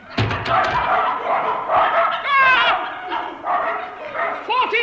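Dogs bark, yip and yelp in a busy radio-comedy sheepdog sound effect. The barking is loud and continuous, layered over with voices and excited chatter.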